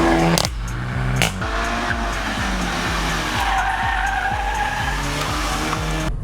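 A Skoda Octavia RS corners hard on a twisty hairpin road, its engine revving loudly and tires squealing and skidding through the bend, close and sustained.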